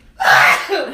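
A single sharp human sneeze, loud and close, bursting in abruptly after a brief silence and trailing off quickly.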